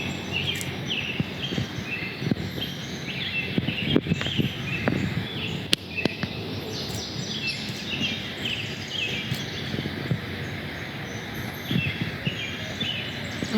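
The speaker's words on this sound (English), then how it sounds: "Listen, you can hear the birds." Birds chirp and sing in scattered bursts outdoors, with faint rustling and footsteps underneath and no talking.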